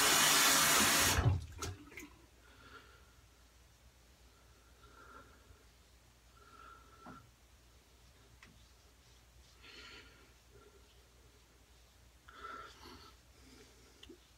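A bathroom tap runs briefly at the start, loud and close, while hands are wetted before a shave; afterward only faint splashes and small clicks in a quiet room.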